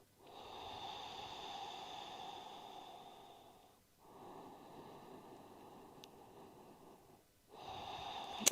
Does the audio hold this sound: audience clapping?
no